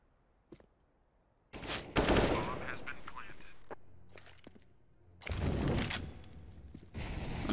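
AK rifle fire in a competitive shooter video game: bursts of sharp, loud automatic gunfire in several volleys separated by quieter stretches, with scattered single shots and faint game sounds between them.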